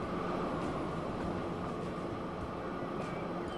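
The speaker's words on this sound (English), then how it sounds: "Oh, here comes a sister train." A commuter train in the railway simulation game Transport Fever 2 rolls past as a steady, broadband rumble and hiss that holds at even loudness throughout, with no talk over it.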